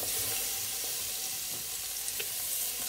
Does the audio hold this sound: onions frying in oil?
yes